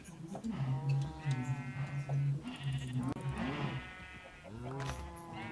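Sheep bleating in Minecraft, several wavering bleats in succession, fairly close and clear, with voices speaking German over them.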